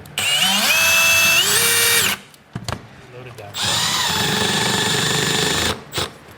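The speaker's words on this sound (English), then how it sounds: "So I'm pre-drilling the aluminum right here." A power drill whirs close by in two long bursts, pre-drilling aluminum, its motor pitch climbing as it spins up, with a short pause between runs.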